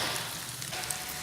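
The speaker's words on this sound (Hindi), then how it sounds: "अब इसमें मैरिनेटेड मटन ऐड कर दें।" Marinated mutton goes into a hot pan with fried ginger and garlic and sizzles steadily, a soft, even crackle with no talk.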